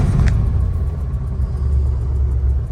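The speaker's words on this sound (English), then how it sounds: "Thing fires right up." A 1967 Mustang engine that had sat unrun for 16 years starts up and settles into a loud, steady low rumble. It runs continuously and close by, with no talk over it.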